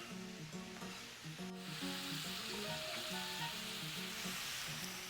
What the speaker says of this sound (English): You just want to cook these shrimp through.